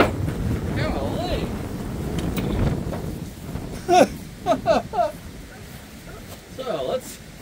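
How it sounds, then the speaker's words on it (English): Strong outdoor wind buffets the microphone at a farmers market stall, a loud low rumble through the first half with brief gusty bursts later, while voices talk intermittently over it. "And windy!"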